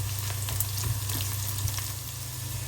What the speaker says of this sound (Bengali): পেঁয়াজ আর রসুনটা একটু ভাজা ভাজা হয়ে আসছে